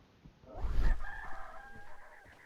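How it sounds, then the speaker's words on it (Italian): A rooster crows once, moderately close, followed by a few faint clucks among chickens in a Sherlock Holmes video game. "Sento i polli."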